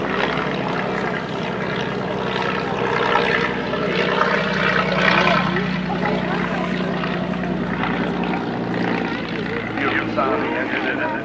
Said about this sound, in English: Beautiful sound of the engine in it.